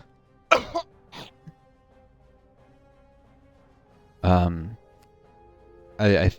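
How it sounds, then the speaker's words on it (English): A man's chronic cough, present since childhood and worsened by long COVID, comes as a few separate short bursts close to the mic, with quiet gaps between them and no talking. "How about the cough?"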